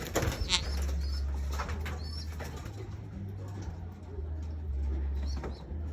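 Pigeons being put back into their cages give a few soft coos and brief wing flutters amid shuffling and handling noise, fairly faint, with no talk.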